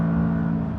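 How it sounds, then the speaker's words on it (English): McLaren 570S V8 engine holding a steady, loud, close drone with a strong low hum, no speech over it. "V8 is a little bit flat sounding"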